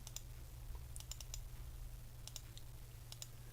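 Computer mouse clicking during screen navigation: scattered sharp, faint clicks, some in quick pairs, over a steady low hum.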